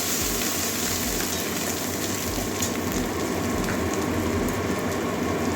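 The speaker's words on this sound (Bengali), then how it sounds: "এবারে মশলাগুলো কষিয়ে নেবো" Cumin and coriander powder frying in a pan for an ash gourd curry, a dense, loud, continuous sizzle heard up close with no voices.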